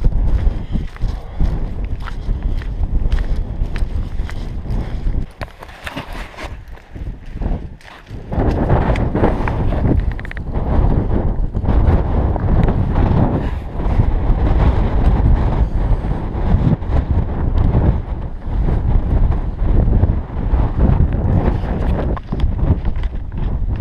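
Strong wind blows across open ground near Skelton Tower, buffeting the microphone with loud, continuous rumbling gusts that ease briefly before surging back.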